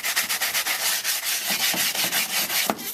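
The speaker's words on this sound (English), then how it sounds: "You want to scrub fairly aggressively." Stiff nylon carpet brush scrubbed aggressively back and forth over a wet leather car seat, a close, loud, rhythmic rubbing with quick repeated strokes and no talking.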